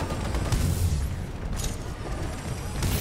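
Rocket explosions in a shooter video game: a dense, continuous roar of booming blasts and rumbling detonations, loud and sustained throughout with no pauses.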